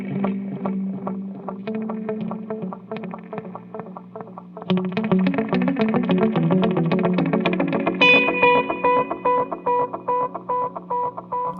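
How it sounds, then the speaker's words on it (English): Electric guitar played through a true analog delay pedal with no processor, with modulation and reverb: plucked notes and chords ring out with steady echoing repeats that build into a dense, shimmering wash, with no talking. "It's a badass delay pedal, man."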